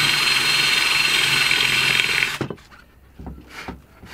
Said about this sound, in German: Und deswegen bin ich jetzt hier unten mit meinem Bohrer und dann hoffe ich, dass das gleich funktioniert.